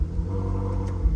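A Ferrari 458 Spider V8 warming up after a few earlier starts, a steady deep idle rumble running close and loud with a slight swell near the end, no voices.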